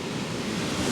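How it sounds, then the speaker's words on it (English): Surf breaks on Chesil Beach at night as a steady, loud wash of broadband roar with some wind, close and continuous, with no talking. "I don't know if you can hear in the background with the sound of the surf"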